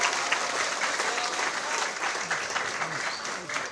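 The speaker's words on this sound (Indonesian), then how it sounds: "Boleh kasih tepuk tangannya." Crowd at the inauguration of an Islamic boarding school, Pondok Pesantren Zuratul Quran, breaks into steady, enthusiastic clapping, with voices and cheering mixed in.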